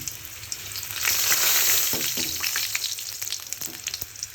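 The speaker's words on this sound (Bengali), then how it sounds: "জিরা আর রসুন ভাজা হয়ে গেছে, এটা নামিয়ে নিব।" Cumin seeds and garlic cloves frying together in oil, a loud hiss that swells and then settles into crackling spatter with stirring scrapes, heard alone without talk.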